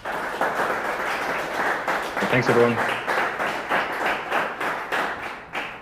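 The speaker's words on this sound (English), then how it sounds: "maybe a round of applause, please" A conference audience at a Bitcoin business event in Montreal claps in a steady, fairly loud round of applause, while someone briefly speaks over it partway through.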